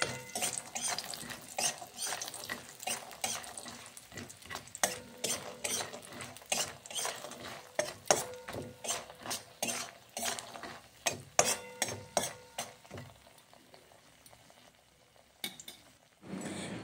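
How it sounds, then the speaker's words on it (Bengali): Lentil dumplings fry in oil in a pan, heard mostly as a busy run of clattering spatula-and-pan stirring knocks over a faint sizzle, quieter toward the end. "বড়িগুলো এখন ভেজে নিচ্ছি"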